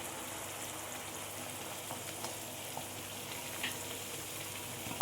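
Dal with tomatoes and spices cooking in a pan gives a steady, low, even sizzle and bubble that runs through the whole stretch, quiet and close, with no voices.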